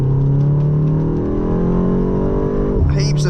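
A 2025 BMW M235 Gran Coupe engine pulls hard under acceleration, its steady drone rising in pitch before dropping sharply at a quick dual-clutch upshift near the end, loud and close inside the cabin.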